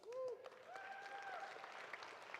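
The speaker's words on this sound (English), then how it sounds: "Big round of applause." An audience at a municipal awards ceremony applauds, a faint, steady patter of clapping heard from a distance, with a voice over it.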